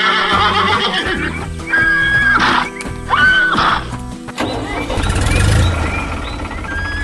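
Neighing from a brown horse in an animated cartoon farm scene, two clear whinnies rising over busy background music and effects, followed by a louder burst of noise, with no talking.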